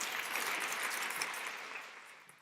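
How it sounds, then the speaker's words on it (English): An audience applauds guests at a panel event, a steady wash of clapping that fills the room at moderate volume and slowly fades toward the end. "I hope you will join me in applauding our guests"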